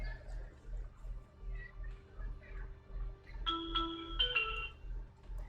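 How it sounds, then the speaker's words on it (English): A mobile phone rings faintly under a low background hum, playing a short melodic ringtone of bright repeated tones for a couple of seconds. "That's my phone going off."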